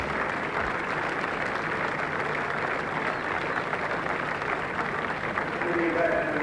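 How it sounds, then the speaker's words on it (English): A cricket crowd in the George Giffen pavilion stand applauds during a Test match between Australia and England, a dense, even wash of clapping and crowd noise that swells slightly near the end. "In the pavilion in the George Giffen stand that gave such a wonderful reception yesterday to Greg Blewett, rising and applauding Philip de Freitas"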